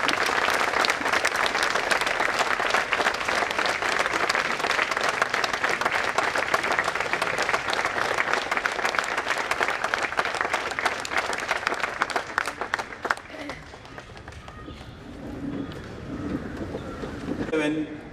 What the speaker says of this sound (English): may I request all of you to stand up and give a big applause as an act of gratitude